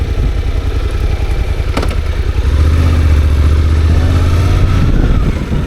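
Motorcycle engine under a beginner rider shifting into second gear, a steady loud mid-range drone with a brief dip at the clutch-in and a rising, smoother tone after the shift as throttle rolls back on.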